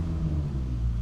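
A Toyota Supra with old tires and a heavy clutch rolls off, its engine giving a steady low rumble close by.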